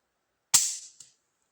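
A crossbow shooting a bolt, a single sharp snap with a quick decaying twang and a faint second click a moment later, alone in otherwise quiet surroundings.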